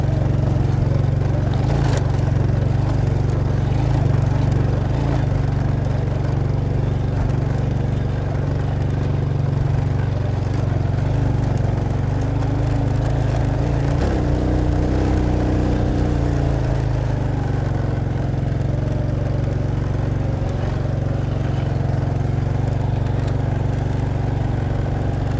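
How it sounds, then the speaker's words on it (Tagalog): An underpowered motorcycle engine drones continuously and loudly while laboring up a steep, rough mountain road between Alilem, Ilocos Sur and Kibungan, Benguet, with wind rush and some rattling over the hum. "Bitin talaga sa power tong motor natin."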